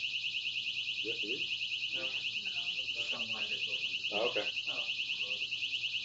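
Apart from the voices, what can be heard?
fire alarm ringing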